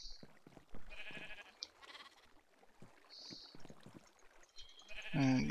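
Blocky sheep in Minecraft give short bleats scattered amid game sounds, with a louder, closer bleat near the end and no speech over them.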